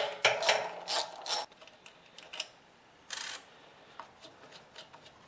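A 10mm socket wrench removes two nuts on a generator: several quick ratcheting bursts near the start, then a few isolated clicks and a later short ratchet run, close and fairly quiet with no talk.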